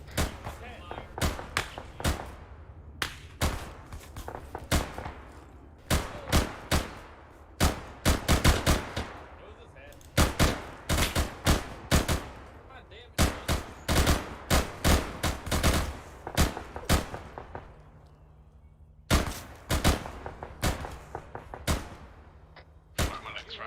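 Sustained gunfire rings out in repeated bursts and single shots, loud and close, with short gaps between volleys throughout, and voices are briefly audible between the shots.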